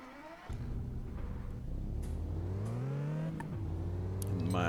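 An Aston Martin Vanquish in Test Drive Unlimited 2 idles, then revs with a smooth rising and falling engine tone, a steady hum under mid-level throttle changes.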